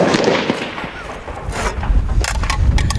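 Rifle fire at a PRS precision shooting match, heard as sharp cracks and a few booming reports over steady outdoor background noise, mostly in the second half, with no talk.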